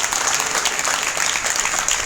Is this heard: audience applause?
yes